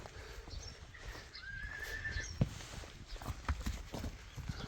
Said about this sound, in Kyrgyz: Резвый жылкы экен да, жеңил кыймыл аракеттери